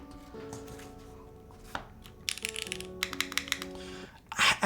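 Keys clatter on a Pavlov 65 keyboard with a polycarbonate plate and Geon tadpoles, set on a cork desk pad, a quick run of soft clacks growing busier toward the end over a steady background hum.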